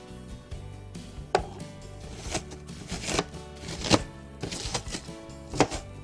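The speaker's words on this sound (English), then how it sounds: "So I'll just cut them into pieces, about like that." Knife chopping vegetables for a teriyaki stir fry on a cutting board, sharp irregular clicks and thuds in quick bursts, close and fairly loud.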